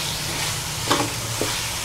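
Tough cabbage stalk pieces for aloo gobi sizzle in a frying pan, a steady hiss broken by a couple of brief stirring clicks, with no talk.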